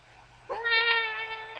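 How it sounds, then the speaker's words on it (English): Kitten meowing from somewhere up high, a single drawn-out, clear meow about a second long, close and fairly loud against a quiet room. "My kitten's up there."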